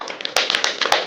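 A few scattered handclaps from a small audience at a Dublin Open World Cup Qualifier, sparse and uneven over about a second rather than a full ovation.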